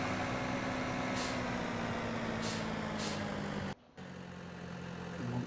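A tractor engine idles in Farming Simulator 17 as a steady low drone with a constant hum, joined by a few short hissing bursts, cutting out briefly near the end before resuming.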